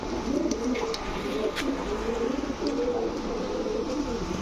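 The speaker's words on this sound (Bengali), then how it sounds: "দেখছেন কবুতরগুলা" Fancy and high-flyer pigeons, including an old Sapchila breed pair, coo in a loft, their soft rolling calls overlapping continuously at moderate distance with a few faint clicks.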